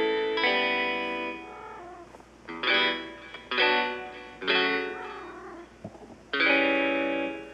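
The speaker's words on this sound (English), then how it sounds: "Sorry for the cat noise in the background." A cat meows repeatedly in long, drawn-out, tonal cries, about six of them in an uneven rhythm, fairly close and clear.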